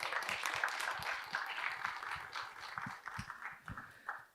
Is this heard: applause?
yes